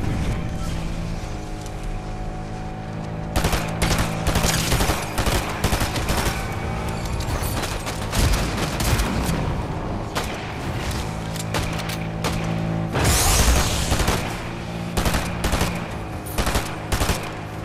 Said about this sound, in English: Now you got some shooting up in front of us.